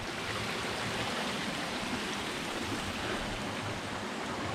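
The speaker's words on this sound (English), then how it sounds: "So either way, it's a beautiful little river." A small river flows through a Philippine jungle, a steady, even rush of water filling the whole span at moderate level with no breaks or voices.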